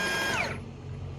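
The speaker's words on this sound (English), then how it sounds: "Of course, got the big cordless impact." A big cordless impact wrench removing the duals from a John Deere 4840 tractor, a loud whirring motor burst that winds down as the trigger releases, leaving a low background hum.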